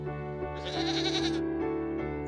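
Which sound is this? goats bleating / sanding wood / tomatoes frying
goats bleating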